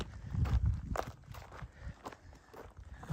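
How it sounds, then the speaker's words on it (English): Running footsteps on a desert trail in Black Canyon, a quick series of soft crunching foot strikes close by, uneven in rhythm, with faint wind between them and no talking. "I hear my footsteps and the wind blowing and stuff like that"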